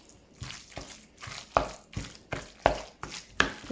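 Minced meat kneaded by hand in a bowl, soft wet squelching and slapping pulses repeating in a steady rhythm, close and quiet.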